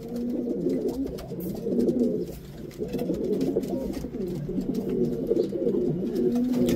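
Kapus racer pigeons in the G.K Loft, a continuous overlapping chorus of low cooing from several birds nearby, steady and moderately loud, with faint scattered clicks and movement.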